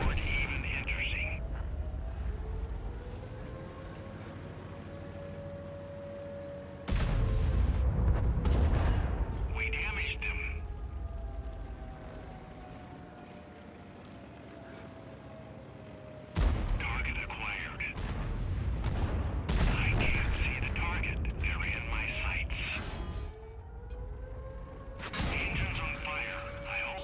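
T-54 lightweight tank cannon fire in a video game battle, several loud booming shots at irregular intervals over engine rumble, with voices talking between them.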